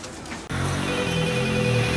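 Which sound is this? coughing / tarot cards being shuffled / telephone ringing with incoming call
telephone ringing with incoming call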